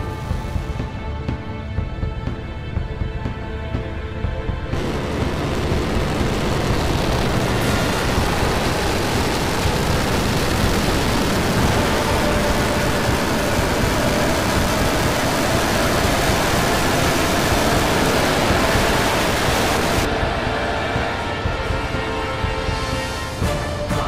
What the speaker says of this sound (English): We're preparing to light 3 Raptor engines to begin the flip sequence.